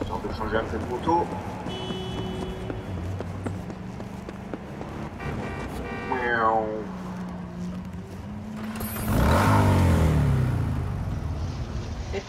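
Motorcycle engine in Cyberpunk 2077 revving and rising in pitch, with a louder surge near the end, heard under someone talking throughout.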